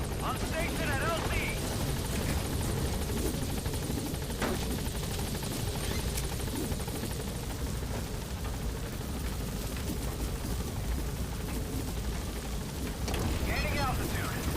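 Pequod helicopter arriving at a landing zone in Metal Gear Solid V: The Phantom Pain, a loud, steady rotor roar filling the whole stretch with constant rumbling wash, voices speaking over it.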